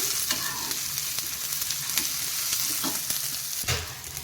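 Cumin seeds frying in a pan, giving a constant close sizzle with repeated scraping stirs, and no voices.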